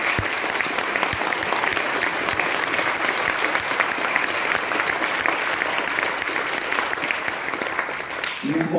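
Sustained audience applause at a museum award ceremony, a dense, steady wash of many hands clapping throughout, loud and close, fading slightly at the very end.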